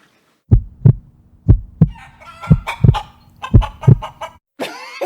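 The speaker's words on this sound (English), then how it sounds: "Why is there a chicken at the end?" A chicken clucks in loud, close, rhythmic bursts, with rising crowing-like calls breaking in between and a final squawk, heard alone without talk.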